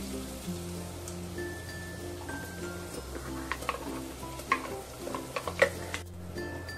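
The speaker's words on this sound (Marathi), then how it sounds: "मसाल्याला आता तेल सुटलंय, चांगला परतलाय मसाला सगळा" Ground masala paste fries in oil in a pan, a steady soft sizzle with stirring scrapes and a few sharper clinks of a spoon against the vessel, close by and without speech.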